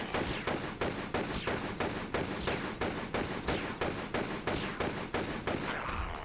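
Rapid, evenly spaced gunshots crack out one after another for several seconds in a Tomb Raider level, loud and close, as a vase is shot at inside the game.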